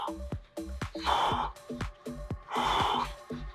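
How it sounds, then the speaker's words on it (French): Heavy rhythmic breathing during a beginner HIIT workout, with sharp audible exhales repeating roughly every half second and two longer, stronger breaths. "On inspire, on expire, on inspire"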